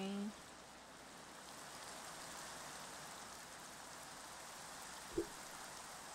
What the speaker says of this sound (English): Oh, it's raining. I love the rain.